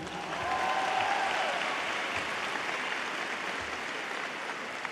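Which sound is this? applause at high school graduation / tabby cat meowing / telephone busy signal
applause at high school graduation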